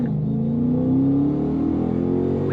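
A Dodge Challenger engine accelerates on a private road, a steady loud rumble whose pitch climbs smoothly, with no voices.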